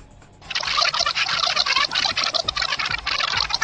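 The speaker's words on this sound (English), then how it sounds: "If I continue by adding water, I can eventually build an entire glove of water that will stay fixed to my hand" Water being added bit by bit to a hand aboard the International Space Station, building a clinging glove of liquid; a close, continuous pouring and trickling sound follows a brief quiet start, with no talk.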